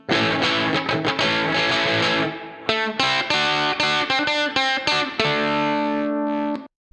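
Heavily distorted electric guitar chords through a Mesa Boogie Mark IV amp simulator with a limiter, loud and compressed, ringing in bursts with brief gaps between strums.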